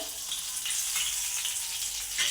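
Fish sizzling steadily in a pan of shallow oil over a medium flame, a dense continuous crackle that holds close and even throughout, with no talk over it.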